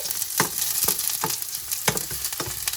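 Oil sizzles steadily in a pan as garlic fries, with a constant hiss broken by repeated soft scraping stirs.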